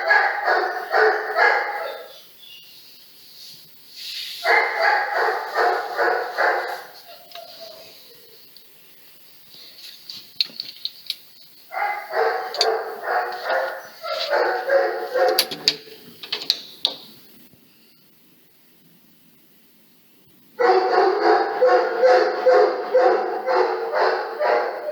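A neighbour's dog barks in several separate bursts of rapid, loud yaps, with short quiet gaps and a few faint whimpers between them, heard indoors.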